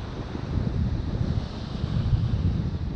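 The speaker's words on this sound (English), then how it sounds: "That wind is rough." Strong wind buffets the microphone at an ocean shore during spring striper fishing, a steady, loud, low rush with gusty swells and no talking.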